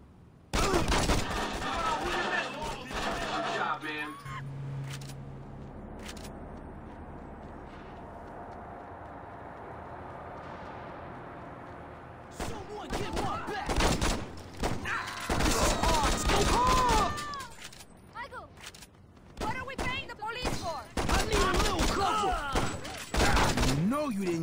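Gunfire in the video game Saints Row: loud dense volleys at the start and again in the second half, broken by a quieter stretch, with talk and shouting mixed in.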